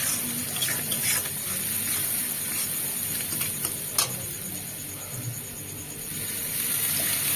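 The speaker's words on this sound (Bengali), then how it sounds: "অল্প জল দিয়ে এবার এটাকে কষিয়ে নেবো" A little water is poured into spiced potatoes for achari aloo dum, making a soft, continuous watery rush and patter that runs steadily under a faint background, with no speech.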